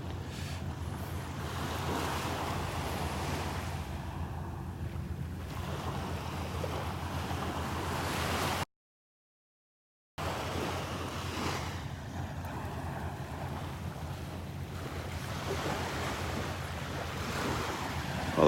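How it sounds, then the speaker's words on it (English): Ocean waves wash onto a North Naples, Florida beach at high tide as a constant broadband surge, roughened by wind buffeting the microphone, broken by one brief silent gap. "the tide's still kind of high here, so there's a lot of water along close to the shoreline here"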